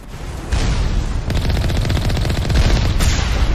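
Rapid automatic gunfire and shots in a Mass Effect Legendary Edition fight against turrets on Asteroid X57, loud and continuous with bursts of rattling fire layered over one another.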